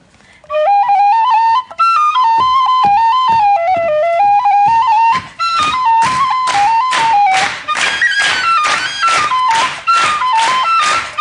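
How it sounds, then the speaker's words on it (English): A bright tin whistle plays a lively, ornamented melody, joined partway through by steady rhythmic percussive strikes. "Give us a tune on your tin whistle."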